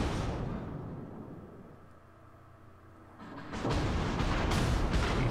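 Naval gunfire from a Russian tier-3 battleship in a World of Warships sea battle, a heavy low rumble of a distant salvo that fades out, then a louder broad roar of shells and blasts swelling up near the end.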